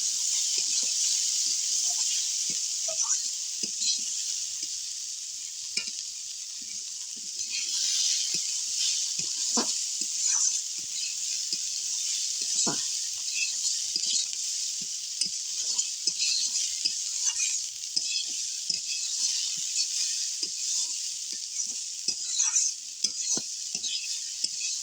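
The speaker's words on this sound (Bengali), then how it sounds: "দিয়ে ভালো করে আমি এটাকে নেড়ে চেড়ে নেব।" Flattened rice and vegetable khichuri with turmeric being stirred in a pan, a steady bright sizzle under frequent soft scrapes and taps of a spoon, close and without talk throughout.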